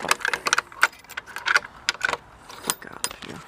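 Keys jangle close by while a modern mortise lock set with a bit key is locked on a door, giving bright, rapid metallic clinks and rattles in irregular bursts, fairly loud.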